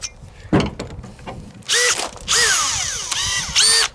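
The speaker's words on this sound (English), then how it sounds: "Let's switch over to the Makita." Makita 18-volt compact cordless drill revving in short bursts, pitch sweeping up and down as the trigger is squeezed and released, with clicking and ratcheting between runs, close and loud.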